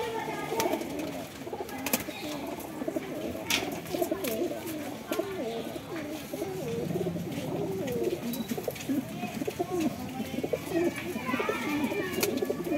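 Many pigeons coo steadily in low, throaty bursts, close by, with faint voices and occasional rustling in the background.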